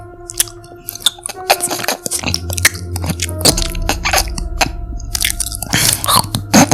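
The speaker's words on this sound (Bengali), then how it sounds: "মনে হচ্ছিল কেউ যেন একটা হাড় চিবাচ্ছে" Crunching and gnawing chews, sharp cracks among wet squishy bites, repeated irregularly and close up with no talking.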